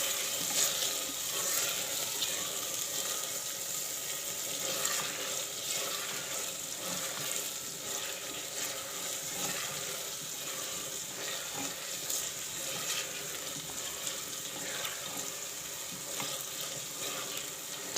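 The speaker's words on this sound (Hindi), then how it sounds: "अब इसमें चिकन शामिल करें और अच्छी तरह मिक्स करें।" Chicken sizzles and fries steadily in a pot for a Pakistani chicken handi, with occasional scraping and stirring sounds over a constant, fairly loud hiss and no talking.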